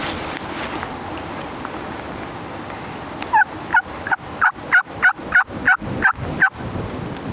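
Wild turkeys gobble in a rapid series of about nine loud, rhythmic calls over steady gusting wind during a spring turkey hunt, the gobbles fairly close and cutting through the constant wind roar.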